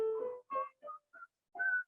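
Someone whistles a short melodic phrase from a jazz tune, five clear tones with brief gaps between them, close and clean with nothing else heard.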